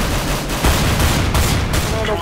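Gunfire in CS:GO on the Mirage map: bursts of automatic shots and scattered single reports, loud and close, over continuous game noise.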